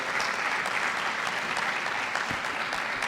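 Audience clapping at a graduation-style awards ceremony, a steady dense patter of hands sustained evenly across the moment with no voices over it.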